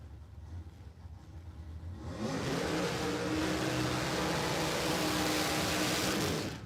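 A nitro drag racing car makes a solo pass at Warwick Dragway in Australia, its engine swelling from a distant rumble into a loud, sustained roar that holds steady for several seconds.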